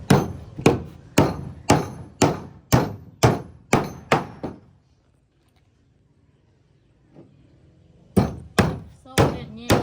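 Nails are hammered while building a small hut outdoors: about nine loud, evenly spaced, close strikes, a pause of a few seconds, then four more blows.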